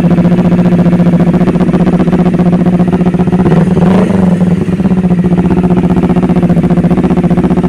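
A Kawasaki Z500 motorcycle's exhaust rumbles loudly and steadily up close, holding a continuous engine note with a slight swell in the middle.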